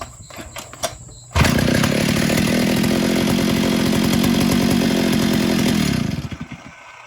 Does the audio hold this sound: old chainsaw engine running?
yes